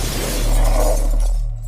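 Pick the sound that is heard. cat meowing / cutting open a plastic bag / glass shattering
glass shattering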